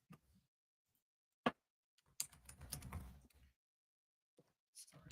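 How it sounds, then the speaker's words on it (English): Someone with long nails types on a computer keyboard in a quiet room, first a few isolated keystrokes and then a dense flurry of clicks, close and fairly soft. "you just got to type"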